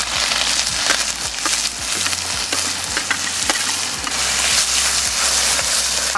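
Crushed onion drops into hot oil where mustard seeds have already popped, giving a loud, dense sizzle with sharp crackles and spatters, close up and continuous.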